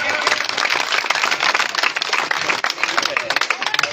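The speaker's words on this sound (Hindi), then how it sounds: "तो सभी के लिए एक बार पुनः जोरदार तालियां।" Applause from a crowd of spectators for runners at a 5 km race, a steady dense wash of clapping that holds for the whole stretch with no pause.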